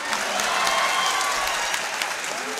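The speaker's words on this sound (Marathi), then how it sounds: "एकदा जोरदार टाळ्या होऊ द्या तुमच्या मायबापासाठी." An audience at a student guidance gathering claps loudly and continuously, a thick wash of hand claps with scattered sharper claps standing out and a faint murmur of voices underneath.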